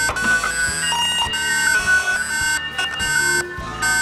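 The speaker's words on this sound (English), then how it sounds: "indoor unit and outdoor unit will all give out a pressing alarm" A wireless video door phone's tamper alarm blares loudly and continuously from indoor and outdoor units, with pulsing tones and rhythmic beeps repeating in a steady cycle, close and harsh.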